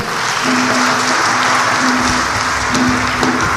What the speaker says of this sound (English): Let's clap ourselves again.